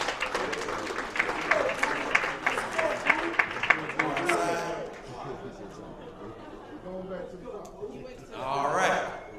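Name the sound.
audience applause for a poet at a slam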